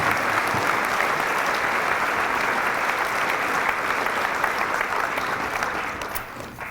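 An audience at a high school academic award ceremony gives sustained applause, a dense wash of clapping from a crowd that stays steady and tapers off slightly at the end.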